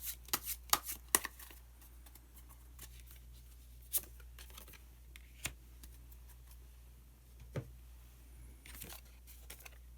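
Osho Zen tarot card being drawn from the deck, quiet papery clicks and flicks of cards, a quick cluster at first and then sparse single snaps, close and faint with a low hum beneath.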